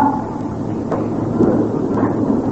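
Thunderstorm sound effect played during a religious sermon: steady rain hiss with deep rolling thunder rumbles and a few sharper cracks, continuous and fairly loud, no talking.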